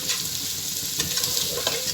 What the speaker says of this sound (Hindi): अब मसाले को अच्छे से भूनना है